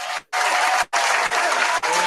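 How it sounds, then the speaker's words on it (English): An audience applauds in quick bursts, loud and close, broken by brief gaps between clusters of clapping, with no talking over it. "Y'all give a nice round of applause for Miss Danny in the building."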